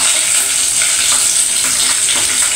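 Chicken frying in a pan for a home dinner gives a steady, loud, dense sizzle that hisses on without a break, with no voices over it.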